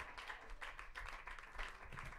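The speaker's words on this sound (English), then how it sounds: "Come on, someone, clap your hands" A church congregation clapping hands during a gospel song, a soft, quick run of claps at a modest distance with a low, indistinct backdrop.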